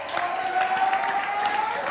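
An audience at a spring poetry slam in Atlanta applauds a poet after a score is announced, a short, steady wash of clapping from a crowd, fairly loud and unbroken.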